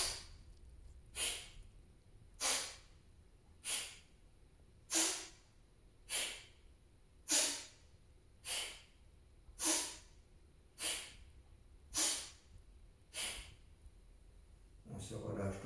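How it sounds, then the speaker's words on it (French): Alternate nostril breathing in a hatha yoga session, about eleven soft, breathy nasal exhales at a slow, even rhythm of roughly one every second or so, close and quiet. "On place les mains sur le nez, on expire sur une narine, on libère sur les deux narines"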